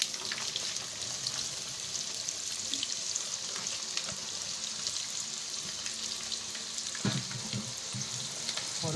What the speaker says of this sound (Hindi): घी गर्म हो गया नाज़रीन, इसके अंदर प्याज ऐड कर देंगे